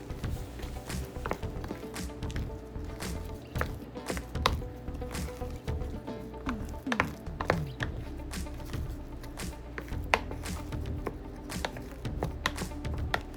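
Ingredients for a yam snack, with green leafy onion added, are stirred and tossed in a bowl, giving close, irregular taps and scrapes of utensils against the dish with no talking.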